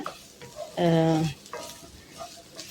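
Crushed ginger and green chillies sautéing in a pan while a prawn and raw plantain curry is being made, soft sizzling and stirring interrupted by a short tonal hum or voice-like tone.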